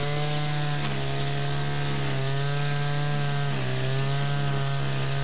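A petrol brush cutter fitted with a homemade flappy debris guard cutting grass, its engine droning loud and continuous close by, pitch dipping briefly as the line bites into the growth.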